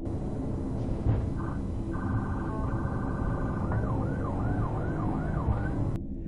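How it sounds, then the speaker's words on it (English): A wailing siren cycles through rising and falling tones over steady traffic rumble, moving from a rapid yelp into slower sweeping wails. "Sirens blare"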